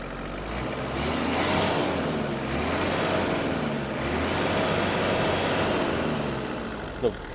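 A Kubota GT-3 mini tractor's engine runs close by and rises and falls as the throttle is blipped, a steady mechanical chug with wavering revs.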